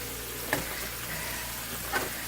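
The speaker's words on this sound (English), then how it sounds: "And this is still sizzling away." Steady hissing sizzle of food frying in a pan, close and moderately loud, with two brief sharper crackles.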